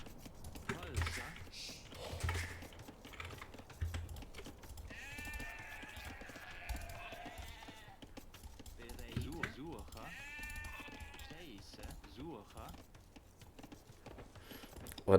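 Sheep bleating in a Goths versus Ethiopians match of a real-time strategy game, two short bursts of game bleats amid clicking interface sounds and hoof-like clip-clops, heard under a quiet commentator talking.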